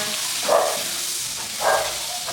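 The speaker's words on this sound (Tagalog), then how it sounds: "Gisa natin bawang sibuyas" Garlic and onion sauté in a hot pan with a steady sizzling hiss that swells twice as the food is stirred or added.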